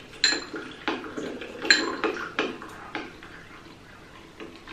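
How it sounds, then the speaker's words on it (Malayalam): Hot and sour soup with hot water being stirred in a pot, a series of rhythmic metallic clinks and scrapes of a spoon against the pot, close and fairly quiet, fading toward the end. "കുറച്ചൊഴിച്ചിട്ട് നമുക്കിങ്ങനെ ഇളക്കി ഇളക്കി കൊടുക്കാവേ"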